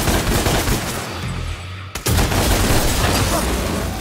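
Rapid bursts of gunfire from a claw gun in Devil May Cry, loud and dense, cut by a sudden brief silence near the middle before the shooting resumes at full force.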